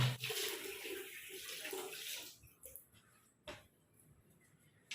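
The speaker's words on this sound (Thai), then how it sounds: "ถ้าออกไม่หมดก็ลอง ล้างน้ำออกได้อย่างที่เราต้องการนะคะ ล้างซ้ำบริเวณเบ้าตานิดนึง" Tap water runs into a sink while cleansing oil is rinsed off a face, a steady broad splashing for about two seconds, then quieter drips and short splashes as hands move through the water.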